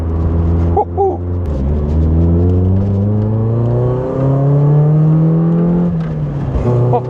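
Twin-cam engine of a 1986 Toyota Corolla AE86 GT coupe revving hard while driving, pitch climbing steadily through the gears with brief dips at the shifts, loud and close from inside the car.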